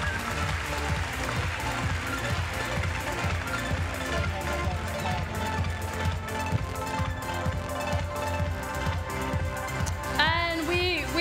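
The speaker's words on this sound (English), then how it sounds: "Give him a round of applause." A Minecraft convention crowd applauding a costume contestant, sustained clapping mixed with music and a busy hall, with voices near the end.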